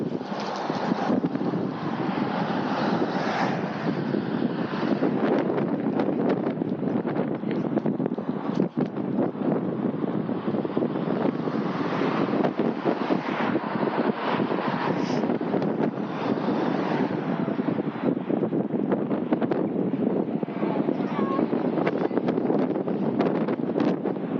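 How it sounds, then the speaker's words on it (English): Steady, loud wind buffeting the microphone with a continuous roar during an outdoor electric unicycle ride, rising and falling slightly throughout, with no other clear sounds. "The wind's still very cold and windy."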